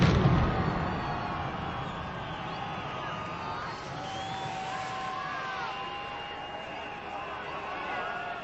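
New Year fireworks over London burst into a dense, distant rumble of pops and booms mixed with crowd noise, fairly faint throughout.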